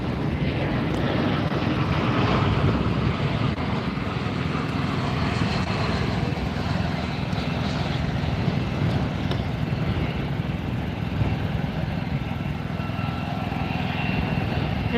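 A plane arriving at Fort Lauderdale airport gives a steady, loud, broadband engine roar that holds evenly throughout, heard from a planespotting vantage near the runway.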